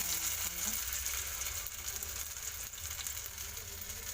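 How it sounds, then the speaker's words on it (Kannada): Paneer shallow frying in hot oil, a steady close sizzle with broad crackle, low rumbling and a few faint clicks throughout, with no talking. "ಇವಾಗ ಎಣ್ಣೆ ಕಾದಿದೆ, ಶಾಲೋ ಫ್ರೈ ಮಾಡ್ಕೋಬೇಕು"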